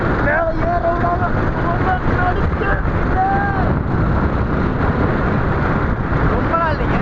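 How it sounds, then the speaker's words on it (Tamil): Strong wind blows on a mountain during a climb, buffeting the microphone in a constant loud roar. Faint voices come through underneath the rush. "ரொம்ப காற்று அடிக்குது"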